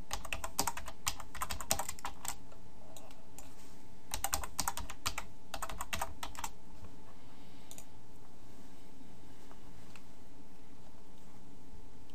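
Typing a password on a computer keyboard: close, quick clusters of light plastic key clicks in uneven bursts over a few seconds, then fading to a steady low hum with no talk.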